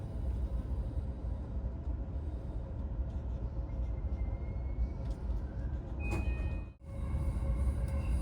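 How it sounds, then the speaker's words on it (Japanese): Yokosuka Line train in Japan stopping at Musashi-Kosugi: a low, steady interior rumble with a faint tonal whine, a brief sharp clunk near the end, then the hum resuming. "列車は武蔵小杉に停車。"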